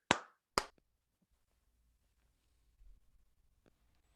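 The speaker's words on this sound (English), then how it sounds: "Okay, claps." Two sharp hand claps sound close together at the start, then near silence with faint rustling and a small tap.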